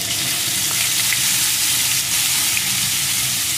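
Crushed garlic and whole garam masala sizzle steadily in hot oil, a dense continuous frying hiss close by with no pauses and no voices.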